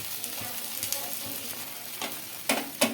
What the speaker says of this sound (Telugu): బాగా బాగా ఎర్రగా కాల్చుకోవాలండి దోశ